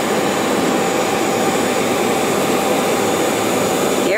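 Steady broadband roar of a jet aircraft engine at an executive airport during a business aviation expo, loud and constant throughout with no speech.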